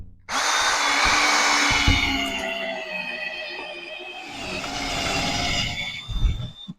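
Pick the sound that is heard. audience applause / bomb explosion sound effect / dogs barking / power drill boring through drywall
power drill boring through drywall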